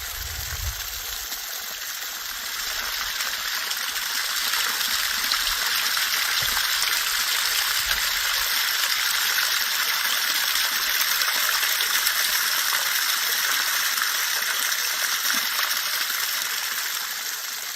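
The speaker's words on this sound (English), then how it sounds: "Here's a cool little waterfall." A small waterfall on a rocky mountain trail in Red Rock Canyon's La Madre Mountains rushes in a steady, bright hiss, close and continuous, with faint scuffs and thumps underneath.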